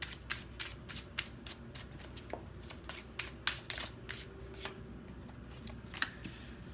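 Oracle cards being shuffled by hand, a steady run of crisp riffling snaps and soft flutters repeating close by, alone without talk.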